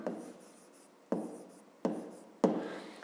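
A pen writes on paper for a fifth-grade maths exercise, giving short scratchy strokes that each start with a sharp tap and fade, four close bursts in quick succession.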